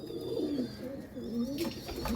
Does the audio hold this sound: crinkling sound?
no